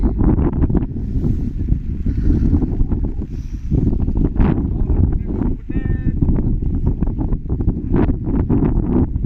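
Strong, steady wind roars and buffets the microphone throughout on the Kunda Betta hilltop in Coorg, with occasional faint voices underneath.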